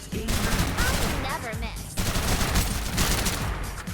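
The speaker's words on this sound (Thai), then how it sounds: "ปืนนี้รัวมากอ่ะ" Rapid bursts of video game gunfire from a fast-firing gun in Farligt 84, dense and loud throughout, with a brief break near the middle and faint voices mixed under the shots.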